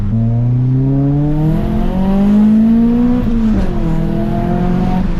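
Loud, close car engine with an aftermarket louder intake pulls through a continuous rev, pitch sweeping upward, then dropping and climbing again in a throaty, gruff tone, with no speech.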